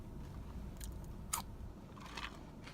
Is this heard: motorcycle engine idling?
no